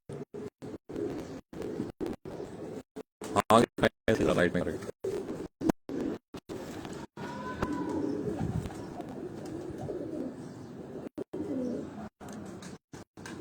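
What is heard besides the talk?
pigeons cooing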